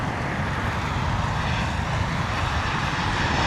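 A Lufthansa Airbus A320neo at a wet, windy Heathrow produces a steady, broad roar of jet engines, continuous and fairly loud throughout.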